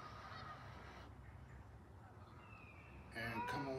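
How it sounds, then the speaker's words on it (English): Geese honk in the distance, a few calls rising near the end over a low steady background hum. "listen to the geese, and listen to the ducks."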